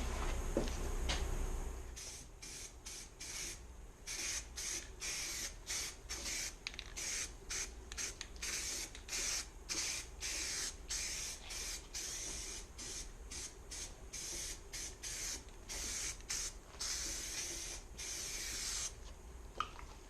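Primer sprayed from a can onto the tub of a 1979 Jeep CJ5 during restoration: close, quiet hissing bursts in a rapid on-off rhythm, many short sprays repeated over the whole stretch.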